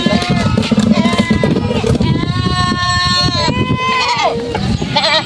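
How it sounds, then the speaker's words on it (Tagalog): A large herd of goats being fed pizza bleats loudly and repeatedly at close range, overlapping calls rising and falling over shuffling and background chatter. "So nagpapakainin na po nila yung mga kambing nila dito."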